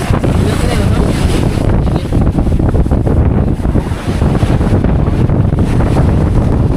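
Loud, constant wind buffeting the microphone, a rough roaring rumble that never lets up, with no clear voices coming through.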